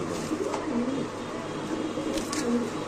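A pigeon coos softly a few times, low repeated notes close by against a noisy background with faint human voices.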